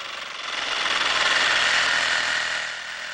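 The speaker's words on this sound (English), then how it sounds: "My first step is to take a sawzall and cut out and remove" A reciprocating saw cuts through galvanized pipe to remove brass sprinkler valves, a loud, steady buzzing drone that swells in the middle of the cut and eases slightly near the end.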